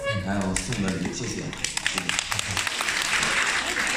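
A theatre audience at a crosstalk comedy show claps loudly. A performer speaks at first, then a dense burst of applause follows and continues to the end.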